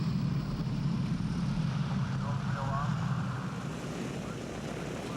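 A Lockheed Constellation piston airliner lands at an air show, its engines a distant, steady drone blended with broad wind noise across the microphone.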